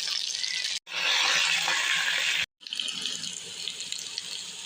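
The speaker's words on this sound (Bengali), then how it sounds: "এখন আরও 2-3 মিনিট ভালো করে নেড়েচেড়ে ভেজে নেব।" Vegetables with ginger paste frying in a pan while being stirred, a steady loud hiss of sizzling broken by two brief silent gaps, close up with no talk.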